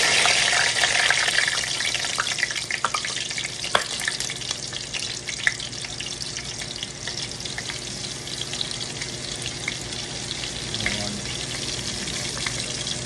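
Marinated curry chicken fries on a stove in a Jamaican-style curry, giving a steady, close crackling sizzle with scattered pops and stirring clatter throughout, no talk.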